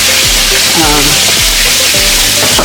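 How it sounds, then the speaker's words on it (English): Fresh chopped garlic sizzles steadily in a hot pan while Southern black-eyed peas with meat are being made, a loud continuous frying hiss with occasional stirring scrapes and no talking. "now I'm adding my fresh chopped garlic in here"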